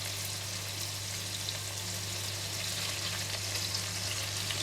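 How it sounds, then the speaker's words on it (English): Prawns frying in oil in a pan for a stir-fried choy sum dish, a steady, close, continuous sizzle and crackle throughout with no talking. "When we fry the prawns like this, in the oil we have a nice flavor of the prawns"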